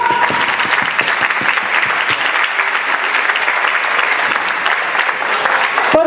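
Audience at a ballroom dance festival in Villaviciosa applauding, loud sustained clapping from a crowd that stays strong and steady throughout, with faint crowd noise beneath.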